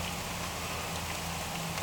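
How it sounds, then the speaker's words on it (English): Steady rain falls in a backyard, a soft continuous hiss of drops on surfaces with a faint low hum beneath, even and moderately quiet throughout. "rain is falling into my backyard"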